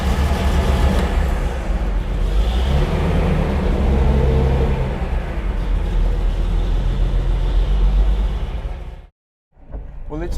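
A Mercedes-Benz 300 SL, restored after sitting unused for years, runs loudly on a road test with a steady engine drone, cutting out near the end before resuming.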